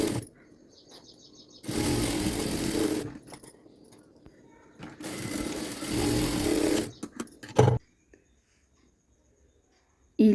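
A sewing machine stitches a blouse lining in two sustained runs of a few seconds each, whirring loud and close, with short pauses and handling noises between them and quiet stretches at the end.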